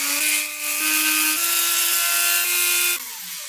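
A power drill whines at close range while scratching a die, its motor pitch stepping up and down in a few short shifts over about three seconds, loud and alone.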